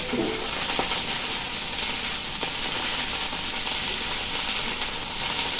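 Cauliflower pieces fry in a pan, giving a steady, close sizzling hiss that runs evenly throughout with no pauses.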